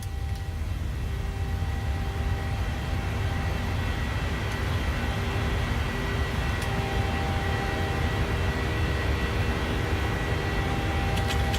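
A steady, droning airliner engine hum from Microsoft Flight Simulator 2020 on a flight from Denver to Jackson Hole, with flaps being set. It holds at an even level throughout with no voices.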